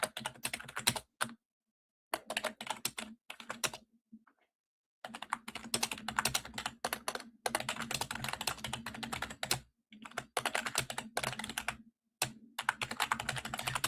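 Close typing on a computer keyboard comes in quick bursts of keystrokes. Short silent pauses separate the bursts, and no one talks over it.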